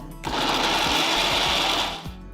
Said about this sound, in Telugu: ఇవన్నీ పూర్తిగా చల్లారిన తర్వాత ఒక మిక్సర్ జార్లోకి మార్చి మెత్తటి పేస్ట్ అయ్యేట్టు రుబ్బాలి